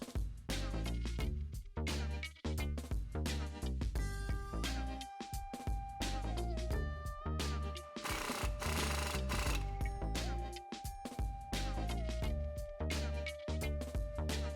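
An impact wrench tightens the lower and upper shock mounts of Bilstein shocks on a Ford F250 4WD during a leveling kit install, a loud, continuous rattle of rapid hammering with shifting pitch that runs nearly fifteen seconds.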